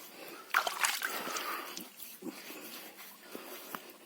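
An animal laps and drinks at a muddy watering hole, giving irregular wet splashing and sloshing slurps that are loudest early on and then thin out into scattered sips.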